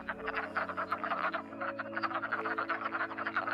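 Male wood frogs calling in a spring pond chorus, a dense run of clucking, duck-like croaks that stacks into a steady rhythmic chatter throughout, fairly close and continuous, with no voices.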